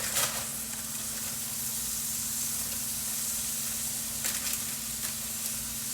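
Cut broccoli from a bag sizzles in a hot pan for hibachi-style fried rice, a steady close frying hiss with a faint low hum beneath and a few brief crackly bursts, no talking.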